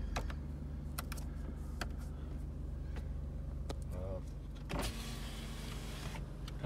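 The front passenger power window of a 2009 Jeep Grand Cherokee hums as its electric motor drives the glass, a steady whir inside the car with a short clunk near the end and a voice speaking briefly.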